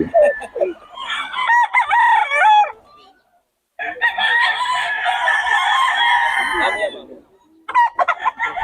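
A yellow-legged hatch stag on a gamefowl farm crows loudly and close in long drawn-out calls, separated by brief pauses, with further clucking and crowing from nearby birds.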